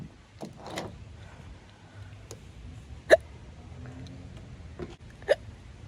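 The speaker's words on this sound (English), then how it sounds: "I've got the hiccups again" A person hiccups repeatedly in a quiet room, with sharp, close hiccups at irregular intervals, the loudest two near the middle and end, over faint background noise.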